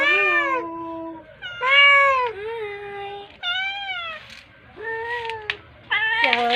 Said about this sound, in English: Look at Starla, a black cat